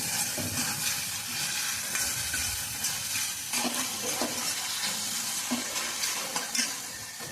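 Powdered spices go into a sizzling tomato puree tempering for a mixed vegetable dish, with continuous frying sizzle and repeated stirring scrapes of a spoon in the pan, close and steady.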